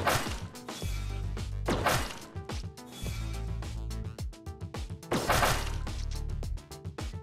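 Spinning saw blade in an Unreal Engine gravity gun game slicing into enemies, a run of sharp heavy whacks and crashes with swishing impacts, several hits spaced a second or two apart over a thumping musical backdrop.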